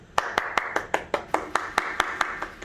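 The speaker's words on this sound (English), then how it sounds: "I like seeing that round of applause" Sharp, evenly spaced handclaps ring out at a nursing awards ceremony to greet the winner, about a dozen claps in a steady, brisk rhythm, close and loud.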